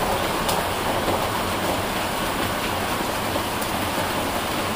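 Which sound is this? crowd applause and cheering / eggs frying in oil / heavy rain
heavy rain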